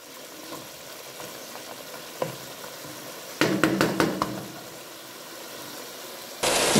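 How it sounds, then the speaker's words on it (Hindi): Mutton with whole spices is fried and stirred over high heat in a degi-style gosht pot, a steady sizzle broken by a burst of clattering spoon scrapes midway and a sudden loud hiss at the end; no voices. "और अब हम इस सब को मिलाकर तो भून लेंगे।"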